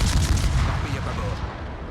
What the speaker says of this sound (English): No, the Brandenburg is firing at the Harlem.